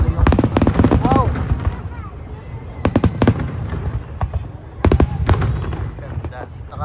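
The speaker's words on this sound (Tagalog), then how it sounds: "Then, ayan yung fireworks." A 12,000-shot fireworks display over Odaiba, Tokyo, heard as loud clusters of sharp bangs and crackles in bursts, with voices murmuring in between.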